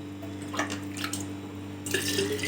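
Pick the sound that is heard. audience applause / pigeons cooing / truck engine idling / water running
water running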